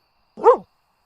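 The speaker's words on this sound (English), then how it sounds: "when suddenly, a bark sounded." A single short, close dog bark sounds alone against silence.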